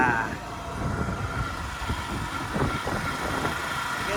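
A boat or small vehicle engine chugs steadily at idle-like speed in Devgad's coastal area, a low rough rumble throughout with light background clatter.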